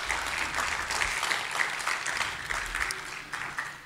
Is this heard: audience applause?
yes